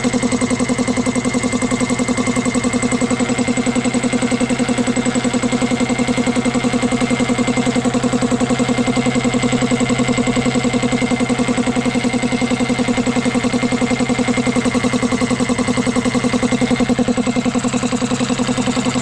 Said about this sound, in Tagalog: Ito po yung bagong motor na Vespa 2 HP.